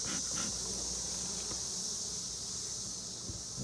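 Honey bees buzzing around an open nuc hive being used as a cell builder on a cloudy day, a steady faint hum of many wings with occasional closer fly-bys.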